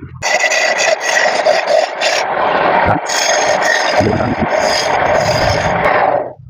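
Continuous harsh scraping of a tool against spinning wood on a lathe, cleaning up the hole of a turned wooden ashtray, loud and close, with brief pauses and changes in pressure over several seconds.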